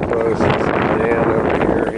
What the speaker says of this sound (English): It's kind of windy today.